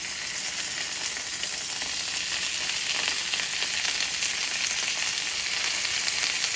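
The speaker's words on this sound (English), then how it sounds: "all we want to do is get a sear on them." Seasoned pork chops sear in a hot pan with a steady, loud, hissing sizzle that holds evenly throughout, close up and without any talking.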